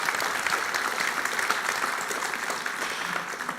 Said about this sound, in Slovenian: ampak vseeno aplavz za dolgoletno tradicijo podeljevanja priznanj